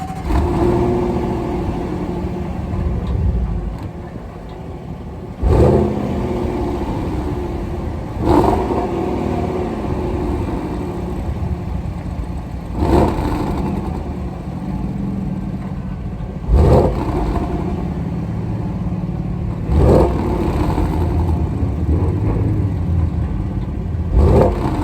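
Jaguar F-Pace SVR engine heard close up, holding a steady mid-range idle broken by several sharp rev blips roughly every few seconds, loud and unaccompanied by any voice.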